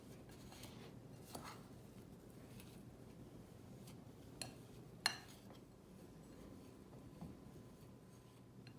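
Oreo biscuit powder and double cream stirred together in a bowl for a no-flour chocolate pastry cake: soft, steady scraping and swishing, close but faint, with a few sharp utensil clinks against the bowl and no voices.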